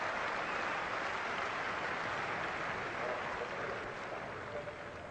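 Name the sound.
cricket crowd applauding at a Test match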